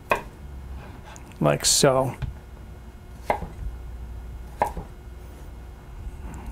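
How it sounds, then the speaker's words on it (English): A knife cutting vegetables into julienne sticks for pork chow mein, a few sharp chops on a cutting board standing out between brief spoken remarks, close and clear. "You want to just cut these into sticks."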